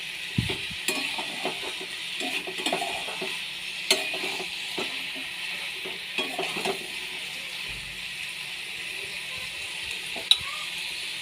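Spicy curry frying in a pan, with a continuous sizzle and repeated scraping, clattering stirs of a utensil against the pan.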